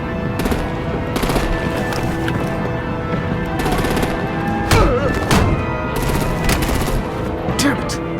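Rapid bursts of artillery and machine-gun fire rattle in Batman: The Enemy Within, loud and close, with heavy booms and voices shouting amid the shooting.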